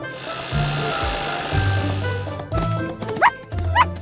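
A small dog barks in short yaps, about once a second, with a few higher yips toward the end, close by over a low hum.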